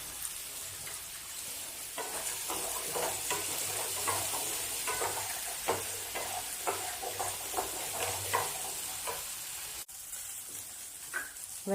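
Spices, onion, ginger and garlic sizzle in oil in a pan for chicken gravy, a steady close frying hiss broken by repeated scraping stirs from a spoon.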